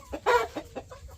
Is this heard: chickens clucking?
yes